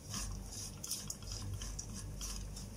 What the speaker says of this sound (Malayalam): അങ്ങ് ചേർത്ത് കൊടുത്തിട്ട് നന്നായിട്ട് അങ്ങ് ഇളക്കി കൊടുക്കാം. നീട്ട് ഒരു 2-3 മിനിറ്റ് ഇതൊന്ന് വഴറ്റി കൊടുക്കണം.